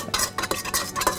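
A spoon stirs yeast into milk in a bowl, giving several rhythmic scraping and clinking strokes up close.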